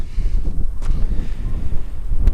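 Wind buffets a head-mounted camera microphone at the southern terminus of the Pacific Crest Trail in eastern San Diego County, a steady low rumble with gusty swells throughout and a couple of brief sharper bursts.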